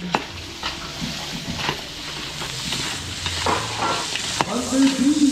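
Onion sautéing in a pan, a continuous sizzle with occasional clacks of a utensil against the pan, moderately loud and close, with no talk.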